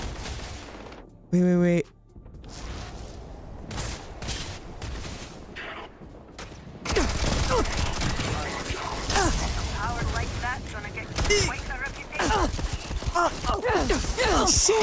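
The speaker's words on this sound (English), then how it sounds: "I got like 5 of them shooting me at the same time" Several enemies open fire at once in the space game Starfield, a dense burst of rapid gunshots and clattering impacts building after a brief lull, with a player's voice cutting in now and then.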